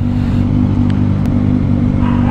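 Kawasaki ZX25R motorcycle engine idling loudly in an enclosed space, a dense steady drone with faint clatter, close and continuous with no talk.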